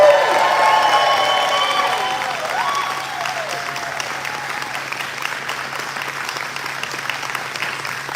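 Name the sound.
audience clapping and screaming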